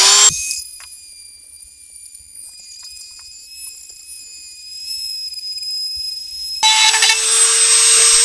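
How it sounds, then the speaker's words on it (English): A Dremel rotary tool at high speed drilling a hole in an airsoft rifle stock for a Tokyo Marui NGRS upgrade: a loud, piercing whine that drops to a steadier, thinner tone while cutting, then rises sharply again near the end. "So we've got our drill bit on our Dremel, and we want to have it nice and fast so it provides the friction."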